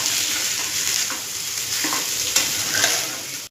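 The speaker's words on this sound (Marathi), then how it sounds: "आता हे चांगलं परतून घेऊया।" Cooked rice stirred with raw mango in a hot pan sizzles and fries steadily, with soft scraping stirs of a spoon against the pan, close and alone.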